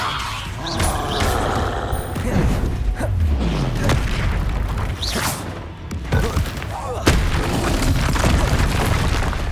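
Confringo fire spell blasts from a Hogwarts Legacy duel: repeated loud booming bursts and whooshing impacts over a dense battle din, with voices calling out amid the fight.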